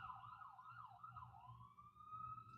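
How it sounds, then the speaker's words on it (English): Wailing sirens rise and fall continuously, fairly loud and close, over a low rumbling traffic background. "I don't like sirens."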